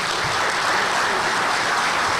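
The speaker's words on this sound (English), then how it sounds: "And give them a round of applause." Sustained applause from a crowd at an awards banquet, loud and steady throughout with dense, even clapping and no voices standing out.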